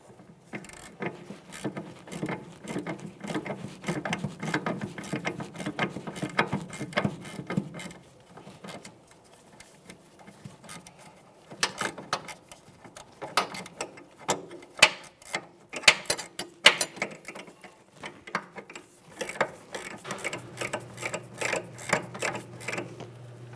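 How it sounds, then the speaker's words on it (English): A ratchet tightens the rear shock absorber mounting nut on a 2003-2007 Honda Accord while a 3/16 Allen socket holds the shaft, making rapid clicking runs in bursts with short pauses, close by. "we'll be holding the center of the shaft with that 3/16 Allen head socket and tighten the nut"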